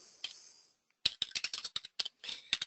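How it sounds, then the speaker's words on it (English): Quiet, quick keystrokes on a computer keyboard while entering an item's SKU and name into an order form: a faint start, then a rapid run of light clicks after a short pause. "let me just type in the SKU and the name"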